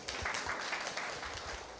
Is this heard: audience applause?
yes